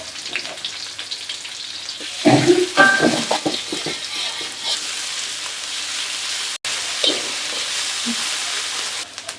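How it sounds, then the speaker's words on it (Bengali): Onion and garlic paste hits hot oil left from frying fish, bursting into a loud sizzle that settles into steady frying with some stirring scrapes, and no talking. "মাছ ভাজা তেলের মধ্যে আর অল্প পরিমাণ তেল দিয়ে দিলাম। দিয়ে দিলাম পেঁয়াজ বাটা, রসুন বাটা।"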